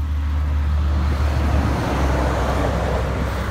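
A 2016 Dodge Charger 5.7L V8 AWD former police car gives off a steady, loud, deep engine rumble with road noise, continuous and close without distinct revs.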